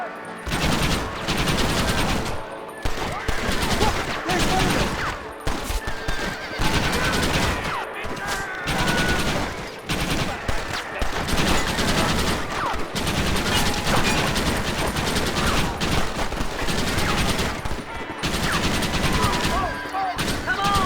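Rapid gunfire in the video game Red Dead Redemption during the assault on Fort Mercer, dense bursts of rifle and machine-gun shots with horse whinnies, loud and nearly continuous, with voices shouting between bursts.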